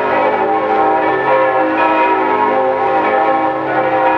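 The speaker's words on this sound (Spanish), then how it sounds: "da orden de que atrone los aires con la campana de su capilla" A chapel church bell rings loud and sustained, its overlapping tolls blending into one continuous metallic drone that stays strong from start to finish with no voices.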